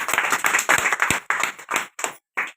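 An audience at a business meeting claps in a brisk burst that thins out into a few scattered, separate claps before stopping.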